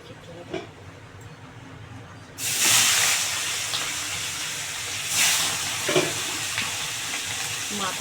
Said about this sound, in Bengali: এবারে মাছের মাথাটা ভেজে নেব।